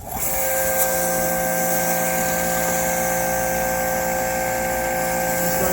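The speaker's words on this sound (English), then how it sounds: "You can also tell that the pressure washer is not very loud." A Bauer 2300 psi pressure washer runs with a steady, fairly quiet motor-and-pump whine at constant level, no pauses, close by, with no voices over it.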